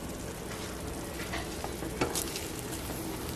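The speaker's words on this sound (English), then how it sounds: "I'm going to stir my rice" Arroz moro with coconut milk stirred in a pot after simmering, a constant bubbling hiss with a few soft scraping touches, fairly even and close, no voices.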